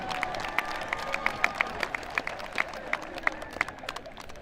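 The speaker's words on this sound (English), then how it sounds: "Another round of applause for computer and office technology." A crowd applauds at a 2022 high school career and technical center commencement, a steady wash of clapping with some sharper individual claps standing out, moderately distant and without talk.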